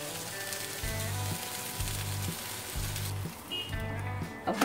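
Vegetable uttapam roasting and browning on a pan sizzles in a steady broadband hiss, with a faint repeating low tone running underneath and a short clatter near the end.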